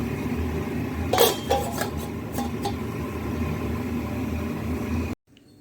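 A metal lid clatters onto a pan of papaya curry cooked with lentil fritters over a gas stove, a cluster of sharp clinks and knocks against a faint background hum, then sudden silence.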